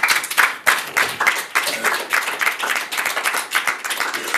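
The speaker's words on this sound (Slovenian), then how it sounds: "En aplavz," Applause after an author breakfast session at a festival, with a small audience clapping briskly and steadily at close range for several seconds, no voices over it.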